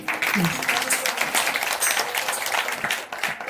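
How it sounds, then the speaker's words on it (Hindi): Applause from an audience at a women's honours ceremony in India, a brief clatter of hands with a voice briefly audible over the clapping. "उनके लिए मैं चाहती हूँ कि जोरदार तालियां बजें।"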